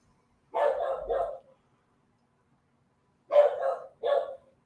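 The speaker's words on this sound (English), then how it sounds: "And my dog is barking." A dog barks in two pairs of quick woofs, separated by a few seconds of quiet, fairly close and clear with no other sounds.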